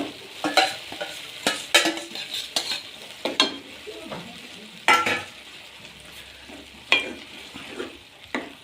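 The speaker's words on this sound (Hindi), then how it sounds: "इन मसालों को हल्का सा हम भून लेते हैं और अब इसमें छोड़ देते हैं अपने साग को।" Mustard greens are tipped into lightly roasted spices in a pan and mixed in, with repeated scraping spatula strokes and clinks against the pan over a continuous soft sizzle, close and fairly loud.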